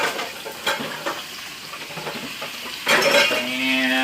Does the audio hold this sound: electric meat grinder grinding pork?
no